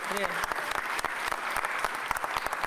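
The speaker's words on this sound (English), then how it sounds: "give them a round of applause for that" Audience applause at a Philadelphia public event, a dense burst of clapping from a crowd that carries on steadily with voices mixed in.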